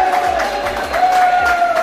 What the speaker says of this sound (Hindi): यहाँ पे शोर चलता है भाई, यहाँ हूटिंग शूटिंग सब चल रहा है